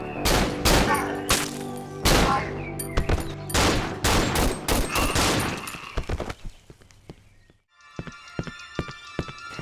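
Rapid bursts of gunfire in the horror video game Cry of Fear, with loud, close shots in quick clusters, then sparser shots and a brief lull before a short scattered volley.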